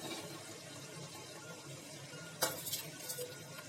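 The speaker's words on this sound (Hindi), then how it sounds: "ये शिमला मिर्च और अदरक डाल रही हूँ मैं इसमें" Capsicum and ginger go into a pan of cooking vegetable biryani: a steady low sizzle runs throughout, then a sudden clatter at the drop, followed by a few scraping stirs.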